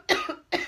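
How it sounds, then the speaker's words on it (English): Two short, loud coughs from a nearby person with a frog in the throat, the second following after a brief pause. "So I start coughing"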